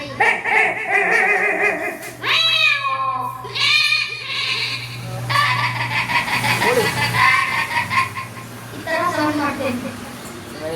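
A person mimics animal calls, yelping and bleating sounds imitating a dog's barks, in a series of loud, close bursts with bits of voice between.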